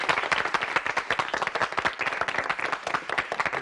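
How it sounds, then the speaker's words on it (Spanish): Children clap for their parents, a steady burst of many small hands that lasts a few seconds with no voices over it. "lindo recibir aplausos"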